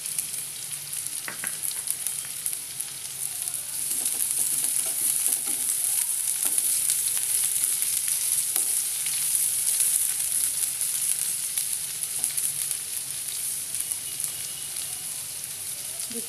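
Carrots frying in a pan for vegetable penne pasta give a steady, close, bright sizzle that holds throughout, with occasional clinks and stirring scrapes.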